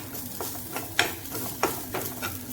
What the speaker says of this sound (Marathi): तर मी याच्यामध्ये सुकं खोबरं घालते आणि भाजून घेते।